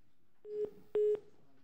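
A telephone line during a call from the German Bundestag gives short electronic tones: one brief beep, then a longer tone, each ending in a click, quiet and isolated.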